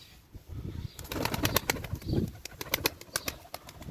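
A pet pigeon comes back home after three days away, its wings clapping and flapping in a quick series of sharp beats close by, mixed with faint bird sounds.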